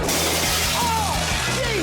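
Glass windows shattering during a house demolition, a broad noisy crash filling the clip with debris rattle and a couple of brief whistling tones, loud and close.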